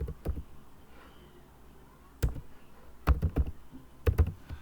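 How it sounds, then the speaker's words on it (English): Fingers type on a computer keyboard in scattered bursts of crisp, close key clicks separated by short pauses, with no talking. "If I am typing my name here, it will be displayed only in a single line."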